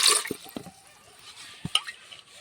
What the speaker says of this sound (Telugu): ఈ సజ్జల్లో కొద్దిగా వాటర్ పోసి